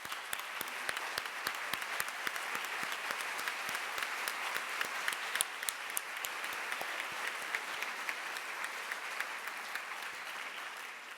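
A large audience applauds at an educators' convocation awards ceremony, honoring school principals and superintendents with steady, dense clapping that holds for about eleven seconds without speech.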